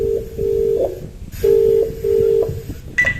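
A mobile phone number is dialled with a short run of electronic keypad tones, several brief beeps one after another, close and clear with no talking.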